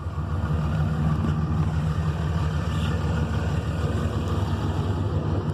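A cold Ram pickup truck with a 4-inch muffler delete and 6-inch tip sits at high idle, giving a steady, close, low rumbling drone that holds level throughout, with no revving and no voices.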